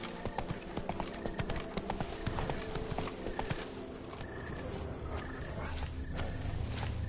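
Geralt's horse Roach in The Witcher 3 game, rapid steady hoofbeats clip-clopping up close through most of the stretch, easing toward the end under soft ambient background.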